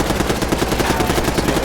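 Rapid, continuous automatic fire from a Tanto submachine gun fitted with a binary trigger, hip-fired on a video game shooting range; a dense stream of close, loud shots with no gaps across the burst.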